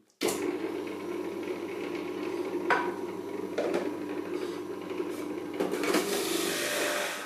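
An electric juicer whirs steadily as it works through slices of rhubarb, apple and carrot, with a continuous buzzing motor and occasional sharper crunching bursts as pieces feed in.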